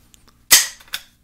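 A Mossberg 715T .22 rifle's bolt snaps shut once the magazine comes out, one sharp, loud metallic clack followed by a fainter click, close by and alone.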